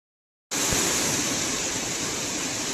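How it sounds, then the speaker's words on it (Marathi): Heavy rain pounding at a petrol pump during a monsoon trip from Lonavla toward Ratnagiri, a dense, even hiss of downpour that cuts in abruptly after half a second of silence and stays loud and steady. "पेट्रोल पंपमध्ये आम्ही आलेलो आहे आणि पाऊस जोरदार आहे"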